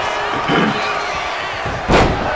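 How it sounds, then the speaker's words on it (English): A wrestler crashes onto the ring mat in a wrestling match, two loud heavy slams about a second and a half apart over steady crowd noise. "Wow, slamming Wildcat."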